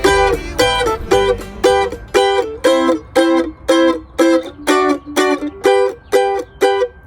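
Bluegrass rhythm chop on an acoustic instrument: a steady train of short, percussive muted chord strums, roughly two per second, close and even, with no voices.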